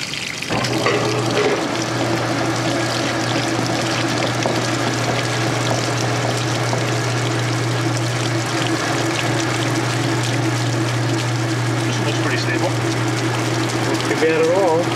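A washing machine drains sudsy wash water through its hose, a steady pumping hum with watery gurgle running throughout, while people talk over it.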